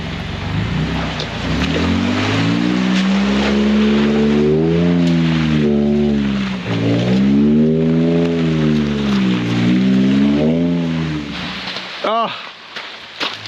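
An off-road vehicle climbs a steep hill in second gear, low range, on an overland mountain trip; a loud, steady engine drone rises and falls with load over rough ground, then cuts off sharply near the end.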